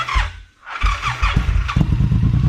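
A Suzuki M109 cruiser motorcycle engine with an aftermarket exhaust cranks and catches, then settles into a loud, lumpy, throbbing idle close by.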